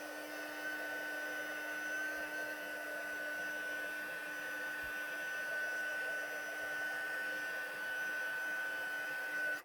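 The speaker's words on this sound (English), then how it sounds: "So I'm just going to heat up that embossing powder." A handheld heat tool blows steadily while melting embossing powder on a card background, a constant whirring hum with a high whine that runs unbroken and cuts off at the end.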